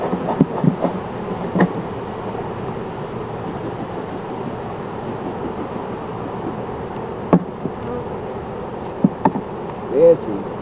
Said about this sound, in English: Bees are here.